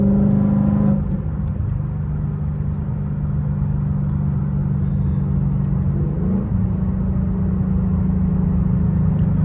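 Loud, steady engine rumble of an S550 Ford Mustang heard from inside the car with windows up, a deep drone that shifts pitch slightly as the revs change, with no talking.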